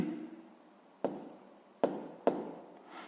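Pen strokes on paper while a 13-power math problem is worked out: three sharp scratchy onsets, each trailing into a soft continuous scrawl, close and clear with no talk.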